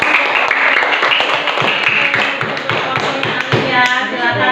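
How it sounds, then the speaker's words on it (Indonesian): Classroom applause from a group of students, a dense patter of many hands clapping together for several seconds, steady and fairly loud, with some voices mixed in. "Kasih tepuk tangan dulu."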